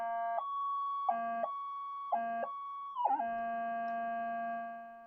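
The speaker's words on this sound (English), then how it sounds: "if I flick it into mono, it's going to go completely nuts and get deafening" Minelab GPX metal detector switched to mono mode, a loud piercing electronic tone that stutters in on-off pulses, then settles into a continuous shrill scream.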